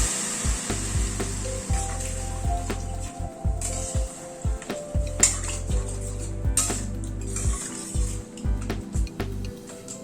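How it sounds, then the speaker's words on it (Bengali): Lentils (dal) stirred in a cooking pot after raisins were added, with repeated scraping and clinking of a utensil against the pot over a low sizzle. "এবার এই ডালটা দিয়ে দিচ্ছি।"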